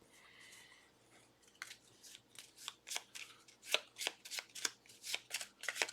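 Brand new game cards are riffle-shuffled repeatedly, a run of crisp rapid flutters and snaps close by, growing louder and more rhythmic, with no talking.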